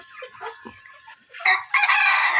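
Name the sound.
native chickens clucking on a farm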